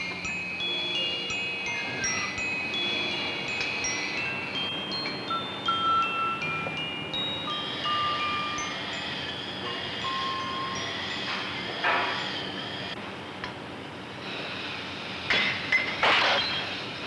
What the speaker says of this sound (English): If you know where to strike the glass, it's easy.